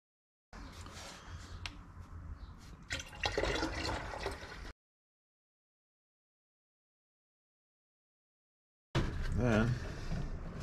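Distilled water splashes and gurgles into a plastic jug to make a 50-50 coolant mix for a Dodge cooling system, a close, fairly loud pour in two bursts separated by silence.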